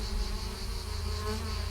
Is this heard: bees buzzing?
yes